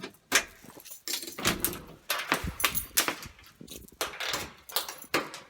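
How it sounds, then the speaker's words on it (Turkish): Keys jangle and rattle steadily at a front door as it is locked, with close, repeated metallic clinks and a few heavier knocks from the lock and door throughout. "Kapımızı kilitleyeceğiz"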